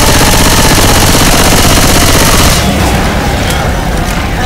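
Sustained rapid automatic gunfire from a Left 4 Dead 2 zombie shootout, loud and dense, pounding continuously before easing slightly toward the end.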